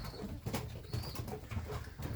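Racing pigeons in a loft give soft, repeated low coos in a gentle rhythm, close by and fairly quiet, with no talking.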